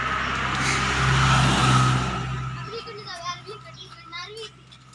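A car pulls up outside a home, its engine rumble swelling and fading as it arrives, with children's excited chatter and calls over and around it.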